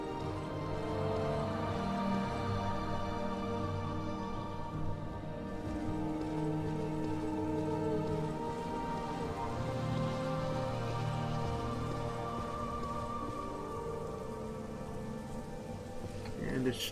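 Steady rainfall in the video game Morrowind, a soft continuous patter lasting throughout under layered ambient game music.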